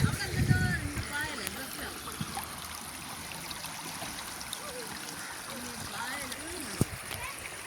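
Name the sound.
river water flowing and splashing during a small boat ride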